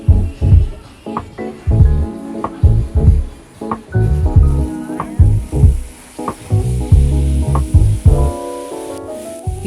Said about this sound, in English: We got their popular sizzling platter with crab, shrimp, mussels, and squid